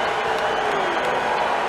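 Crowd at a Talladega NASCAR race gives a steady, dense mixed reaction of cheering and murmuring throughout, with faint applause woven into the roar.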